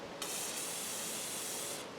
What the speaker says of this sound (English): why not give it a little spray on the bottom half and see what happens then